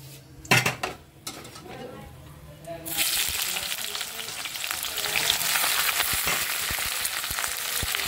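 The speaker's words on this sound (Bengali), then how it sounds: "এবার এই কেটে রাখা পেঁয়াজগুলো আমি এর মধ্যে দিয়ে দেবো।" Chopped onions hit a pan of hot tempering spices for Bengali sour dal, then sizzle and fry steadily with clinks of a utensil stirring, after a few brief knocks at the start.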